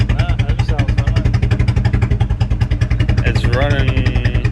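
A Toyota engine idles with a very loud exhaust, a deep, steady, rapidly pulsing rumble that runs throughout, close and heavy, with a voice briefly talking over it.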